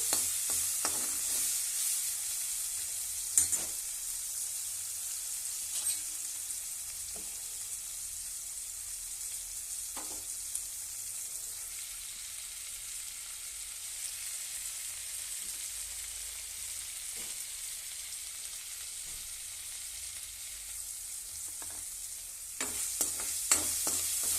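Steady sizzling of hand-crushed fresh ginger-garlic paste frying in a pan, with occasional scrapes and stirring clicks, close and moderately loud, no voices.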